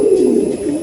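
Female pigeon cooing in a loft, one short low throaty coo, close and clear with no talk.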